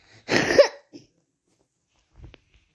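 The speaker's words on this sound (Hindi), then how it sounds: "तू खांसी पे खांसी करता जा रहा है" One harsh cough burst up close, followed by a small catch of breath and a faint second sound after a pause of quiet.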